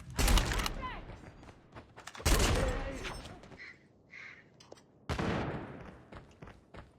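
Sniper rifle shots in Call of Duty, three loud sharp cracks spaced a few seconds apart, each with a decaying tail, with voices talking in between.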